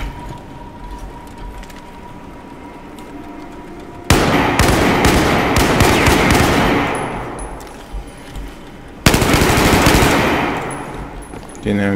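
Automatic weapon fire in the video game Battlefield 4, loud sustained bursts of rapid shots that start abruptly, trail off and then resume, layered over a quieter game background.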